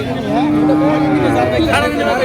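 A black dairy cow with a calf moos loudly nearby in Tangail, a long low call with a bright harmonic tone, over faint background chatter.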